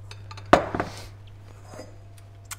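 Mixing bowl handled while making gluten-free chocolate chip muffins, with one sharp clattering knock of the bowl on a hard surface, a few quieter clinks after it, then near silence with faint low hum.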